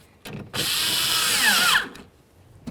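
A power drill drives in the window regulator mounting screws on the rear driver's side door of a 2007-2017 Ford Expedition: one loud, close burst lasting just over a second, its whine dipping as the screw seats, followed by short clicks.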